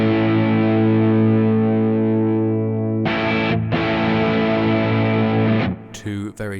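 Angel of Rock distortion pedal with its tone control turned fully bassy: a thick, dark, sustained distorted guitar chord, then a restruck chord and a brief break before short choppy notes at the end.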